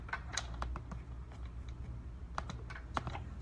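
A brand-new computer keyboard being typed on, quick irregular clicky keystrokes with short pauses, fairly close and quiet over a low room hum, with no talking.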